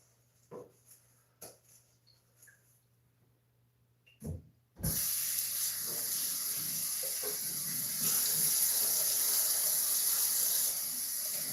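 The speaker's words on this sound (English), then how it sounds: "I only got the strainer to wash and then I'm all done" Kitchen sink tap running while a strainer is rinsed, a few faint clicks and clatters first, then a sudden steady hiss of flowing water that continues to the end.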